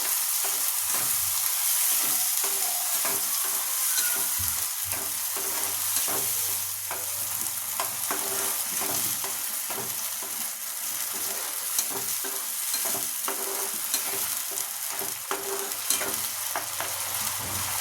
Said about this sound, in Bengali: সেই টমেটো পেস্টটা এর উপরে দিয়ে দেবো একটু নাড়ানাড়ি করে নেবো